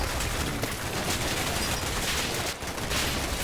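Dense, continuous gunfire from Combat Mission Black Sea, sounding as a steady crackling fusillade of rifle and machine-gun shots that fills the scene without talk.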